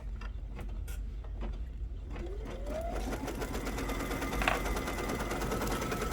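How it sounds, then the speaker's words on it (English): A sewing machine stitches the arch of a Santa napkin cover, a steady rapid mechanical chatter that runs without pause, close and fairly quiet, with a brief rising whine partway through. "This is going to stitch the arch and then a bean stitch across the bottom of it."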